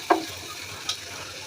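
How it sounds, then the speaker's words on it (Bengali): Shrimp sizzle in a pan for shrimp bhuna, a soft continuous frying hiss with two brief sharp stirring scrapes, close and moderately quiet. "চিংড়ি মাছ ভুনা করতেছি"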